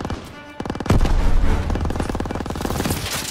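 Call of Duty: WWII street combat brings loud, dense machine gun fire, a continuous rapid rattle of close shots that swells and keeps going through the clip.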